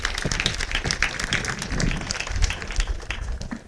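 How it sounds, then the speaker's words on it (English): A graduating class and audience at a secondary school graduation ceremony clap in a short burst of applause, moderately loud with uneven, scattered claps and some low thumps underneath. "Can you give yourselves a round of applause?"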